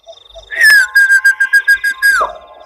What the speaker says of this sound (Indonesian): Ia pun bersiul untuk memanggil burung itu agar menoleh kepadanya.